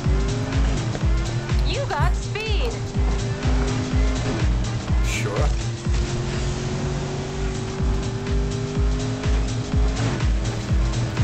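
A car races in Need for Speed Heat, its engine roaring steadily and loudly throughout, with occasional tire squeals and passing whooshes while voices talk over the game.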